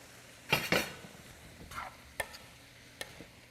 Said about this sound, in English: we are now going to add our noodles into our recipe, and we're going to get all of this mixed up